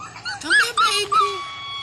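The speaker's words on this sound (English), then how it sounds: "He was howling." Young puppies learning to howl give a few short, rising, wavering howls and whimpers close by, with brief pauses between them.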